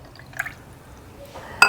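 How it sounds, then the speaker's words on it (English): Water poured into the tank of a small $30 ultrasonic jewelry cleaner, heard as a few brief splashes and trickles in a quiet room, with a sharper splash at the end. "Now you need to add water."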